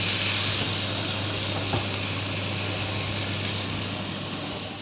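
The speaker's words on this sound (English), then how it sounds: "I'm going to make sure all the edges are nicely seared" A tomahawk steak sears loudly in a hot pan, its edges held against the metal with vice grips, a constant dense sizzle that fades slightly toward the end.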